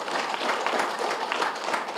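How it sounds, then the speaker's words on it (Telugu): A crowd claps in warm, steady applause for the team that built the Sri Sai Ashtalakshmi Pyramid at its inauguration in Sanakuppam. Many hands are heard evenly at moderate distance, with no voice over it. "సో వాళ్ళందరికీ కూడా ఒకసారి గట్టిగా చప్పట్లు కొడదాం."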